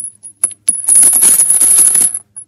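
Gold coins pour down in a bright, loud metallic jingle, a few single clinks first, then a dense cascade of ringing coins lasting over a second before a last stray clink.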